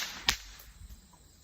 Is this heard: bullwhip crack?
yes